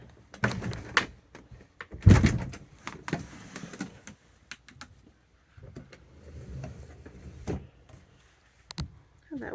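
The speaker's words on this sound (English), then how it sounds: "we do have this door available to shut" A bedroom door in a 2020 Coachmen Leprechaun 311FS RV is handled and shut, giving several close thumps and clunks, the loudest near the middle, among quieter rattles and handling noises.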